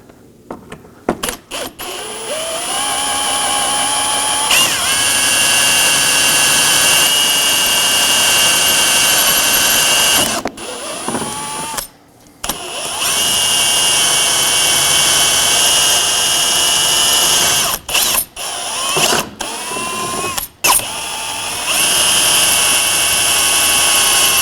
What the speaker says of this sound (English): I'll be using a 1/8 drill bit to remove it.